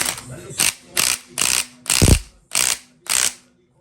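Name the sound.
ratchet tightening camshaft sprocket bolt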